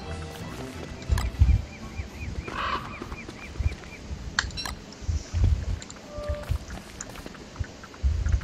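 Red bird in the video game Don't Starve gives repeated squawks and honking calls over game ambience, several short bursts spread across the stretch, fairly loud and close.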